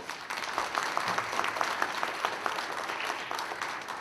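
Audience applause for city council candidates at a forum in Bastrop, Louisiana, a sustained even wash of many hands clapping in a room, steady throughout with no talk.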